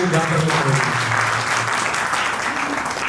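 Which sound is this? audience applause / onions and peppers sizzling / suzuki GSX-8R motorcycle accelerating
audience applause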